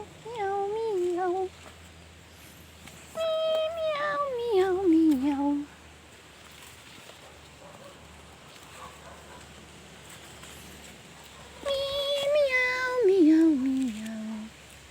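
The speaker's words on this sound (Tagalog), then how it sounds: "Mga miyaw! Mga miyaw. Meow." Cats meowing in several bursts with rising and falling pitch, separated by quiet gaps, fairly close and clear.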